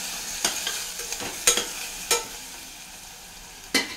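Brinjal curry with turmeric stirred in a hot pan, with five distinct spatula scrapes at irregular intervals over a faint background sizzle, close and alone.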